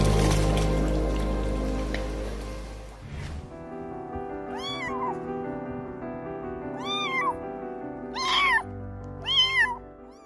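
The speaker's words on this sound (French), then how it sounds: "ce petit chaton sans abri a crié à l'aide lorsqu'il a été entendu par des humains." A homeless kitten cries out with several high, plaintive meows spaced a second or two apart, close and clear after a few seconds of dull rumbling noise.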